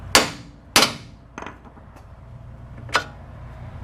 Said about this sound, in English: Give it a good whack with the hammer to break it loose.